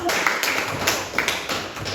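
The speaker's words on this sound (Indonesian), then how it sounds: "Beri tepuk tangan kepada kelompok" Brief, sparse clapping from a few people in a classroom, short and moderately close, over a noisy room.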